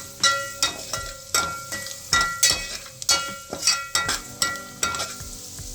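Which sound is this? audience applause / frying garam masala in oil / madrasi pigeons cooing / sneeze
frying garam masala in oil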